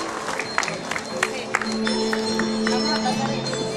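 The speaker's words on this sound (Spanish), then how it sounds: "Un aplauso para él, por favor." Applause and scattered cheering from a crowd at a Christmas tree event in Atoyac, steady and moderately distant, with a faint Spanish voice over a loudspeaker.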